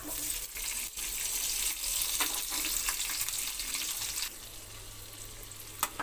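Sliced onion frying with garlic in a pan, giving a steady, dense hiss and crackle that eases to a quieter sizzle partway through, with a sharp tap near the end.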